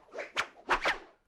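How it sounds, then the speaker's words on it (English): A whip is swung so its tip cracks at supersonic speed: a few sharp, close snaps and swishes in quick succession, fairly quiet overall. "That's the sound of supersonic speed."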